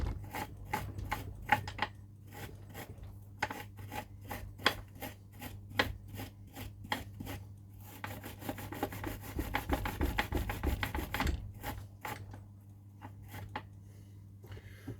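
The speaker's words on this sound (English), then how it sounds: "Clean that flux off of there." A steady scraping and rubbing at close range as solder flux is cleaned off a small scratch-built start light, with rapid repeated strokes over a constant low background hum.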